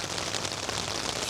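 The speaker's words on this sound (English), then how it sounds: "put my chair in here actually and kick back and watch it rain" Rain pattering steadily on a tarp shelter, a dense, even hiss with fine close-up patter and no voices.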